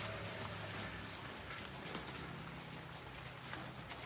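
Rain that has fallen all night and all day, heard as a faint, even hiss of drops on surfaces, steady and diffuse throughout with no voices.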